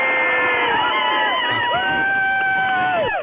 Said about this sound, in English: Let's have a big rousing cheer for that.